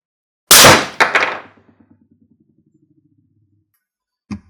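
A rifle is fired free-recoil from a table: one sharp loud crack, then quick clattering knocks as the rifle jumps and settles, a faint fading rattle, and a final bump a few seconds later.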